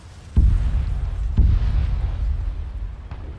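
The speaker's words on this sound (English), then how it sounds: "Just had a bomb dropped on him." Bomb explosions in the World War II shooter Arma 3 Iron Front, two heavy, deep booms about a second apart followed by a lingering rumble, then a fainter third blast near the end.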